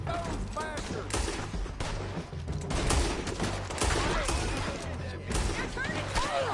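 A gang gunfight in a town in Red Dead Redemption 2 erupts with dense, overlapping rifle and pistol shots, near and far, while voices shout throughout.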